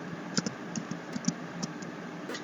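Keys on a computer keyboard are tapped to type "services.msc" into the Windows 10 Run box: sparse, light clicks at an uneven pace, fairly quiet and close, with no talking.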